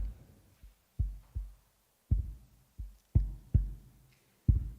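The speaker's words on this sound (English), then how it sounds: "With the heartbeat of the drum, we hear the rhythm that has accompanied us all the way" A drum beats out a slow heartbeat-like pulse during a meditation, about eight deep, close, booming thumps in loose pairs with short silences between them, alone with no voices.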